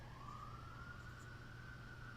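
A faint, distant emergency siren in Los Angeles holds a steady, slowly rising wail, nearly buried under a low, constant hum of room or city noise.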